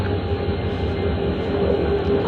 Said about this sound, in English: This train's a lot more quiet than the steam train sounds